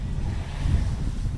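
Gusty crosswind of roughly 13 knots, gusting near 18, sweeps across the Hartford, Wisconsin airfield at a STOL competition, a steady low roar buffeting the microphone with a brief stronger gust and no voices.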